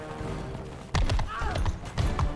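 Horse hooves pounding in a rhythmic gallop in the Mount and Blade Bannerlord video game, loud and close, with some game battle noise around them.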